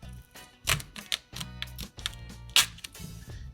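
A kitchen knife cuts through a whole cho cho (chayote), making a series of crisp, close-up slicing and tapping sounds on a board in an irregular rhythm, with no talking.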